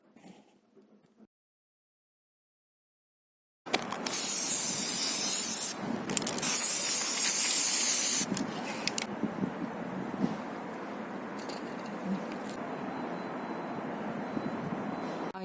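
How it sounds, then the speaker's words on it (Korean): Lacquer spray hisses onto a Christmas wreath decoration made from Daiso items. After a quiet start come long, loud, close sprays with a few brief pauses, followed by softer handling noise. "이렇게 스프레이를 뿌리고 나서"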